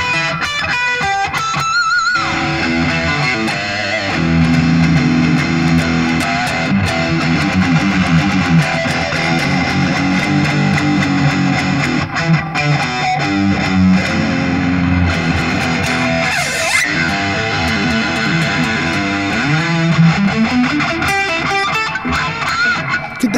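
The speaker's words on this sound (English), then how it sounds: "we're gonna hear the humbucker, super distortion" PRS SE Custom 24 electric guitar played through a humbucker pickup into a Tube Screamer for heavy distortion, a dense, continuous run of saturated chords and notes at a loud, steady level with no talking.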